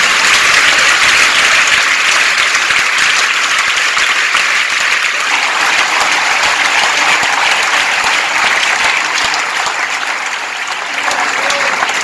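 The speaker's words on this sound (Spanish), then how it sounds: "Denle un aplauso al Señor de la mañana." A church congregation at a Sunday service in Pereira applauds steadily for about twelve seconds, a dense, loud wash of many hands clapping with no speech over it.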